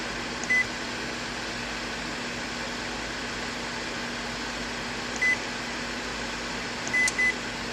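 Advantium 240V oven running with a steady fan-like hum, its control panel giving a short beep near the start, another around five seconds, and a quick pair of beeps near the end.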